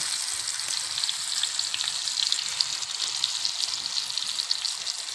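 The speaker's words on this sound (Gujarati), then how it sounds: "ફાઇનલી મિત્રો આપણું તેલ ગરમ થઈ ગયું છે। આપણે એમાં નાખવાનું છે પાપલેટ, તમે જોઈ શકો છો।" Pomfret fish frying in hot oil makes a dense, constant bright sizzle with fine crackling spatter, close by and loud throughout.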